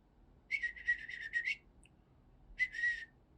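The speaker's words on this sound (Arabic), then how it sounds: "حتى صار يطلع اصوات تغريد على ايدي" A hand-held red-rumped parakeet gives quick bursts of bright chirps and whistles, a longer warbling run followed after a pause by a shorter one, close and fairly soft over a quiet room.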